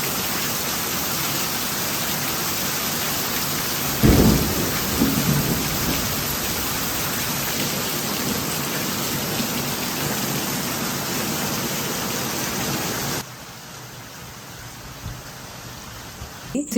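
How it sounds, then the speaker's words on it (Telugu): Heavy rainfall pours down as a dense, loud, steady hiss, with a deep thunder rumble rolling in near the start and the downpour easing to a softer patter toward the end. "విపరీతంగా పడింది వర్షం."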